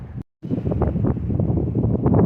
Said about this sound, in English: We're still quite windy today, but we do have sun.